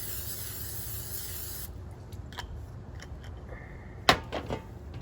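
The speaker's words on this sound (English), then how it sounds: "spray the bottom with a non-stick cooking spray" A steady hiss of non-stick cooking spray coating the bottom of an air fryer basket fills the first couple of seconds, followed by quieter clicks and a sharp clatter near the end.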